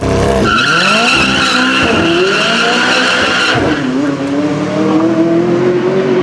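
A McLaren sports car launching hard, engine screaming upward through rising revs while the tires squeal loudly, close and sustained, then a shift and another climbing wail.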